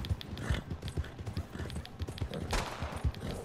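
Galloping horse hooves in Red Dead Redemption 2, a steady rapid clip-clop under game ambience with scattered gunfire-like bangs, while a player talks briefly over it.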